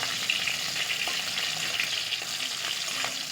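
Green chillies fry in hot oil with ginger paste added, producing a dense, even hiss of sizzling oil that holds steady throughout with faint crackles on top.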